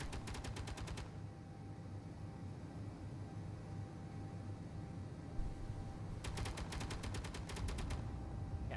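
Rapid bursts of starship weapons fire in a Star Trek Borg encounter game mod, two clusters of fast repeating shots at the start and again late, over a constant engine hum and rumbling space battle ambience.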